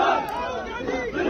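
A crowd at a railway station roars and shouts in loud, dense cheering, voices swelling and overlapping throughout the short burst.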